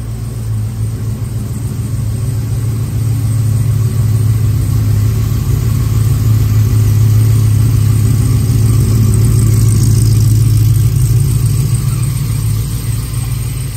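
Gen V Chevrolet Silverado truck engine running steadily in a shop, a deep low rumble holding constant throughout with a slight swell midway, no voices over it.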